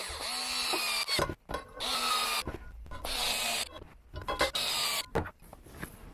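A small Parkside cordless screwdriver from Lidl drives screws into an Xray XT2 RC stadium truck, giving several short whirring bursts separated by brief pauses, close and fairly loud with no talking.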